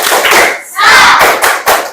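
Classroom of primary school children doing a rhythmic clapping chant together, loud and close, with several sharp claps and shouted group voices over two seconds.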